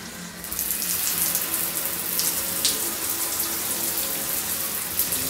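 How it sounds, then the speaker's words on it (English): A hotel bathtub tap at the Steigenberger Achti in Luxor runs hot water in a steady, close rush that fills the tub without a break. "if you want to do the shower, the pressure is good now, it's really hot, but let's have a bath."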